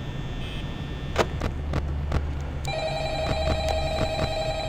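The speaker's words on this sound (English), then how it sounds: "Come on, answer the phone." A telephone rings in the horror video game Five Nights at Freddy's, with several sharp, evenly spaced ring bursts over a steady low electronic hum, and a sustained tone entering partway through.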